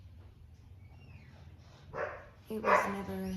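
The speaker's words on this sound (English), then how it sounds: "So they're going crazy. If you hear barking, that's why." A dog barks a couple of times nearby, sharp yips rising over a low background hum, with a brief spoken voice earlier in the clip.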